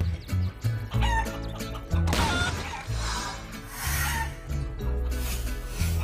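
A chicken in the game Guacamelee clucks repeatedly over rhythmic game music, short squawking clucks scattered through the passage, close and clear, with no talk.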